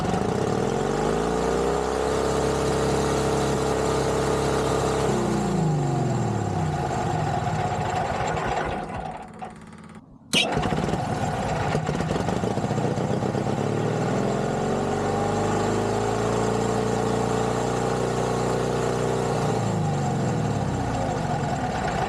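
An old Caterpillar D2 5J bulldozer engine runs loud and steady close by, cutting out briefly partway through before catching and running again, with no talk over it.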